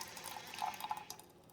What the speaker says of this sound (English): Okay, so it started to shoot the water out.